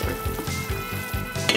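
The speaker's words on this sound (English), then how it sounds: "We're just going to stir the veggies around" Vegetables stirred in a pot of chicken soup coming to the boil, a close bubbling sizzle with rhythmic scraping strokes, no speech.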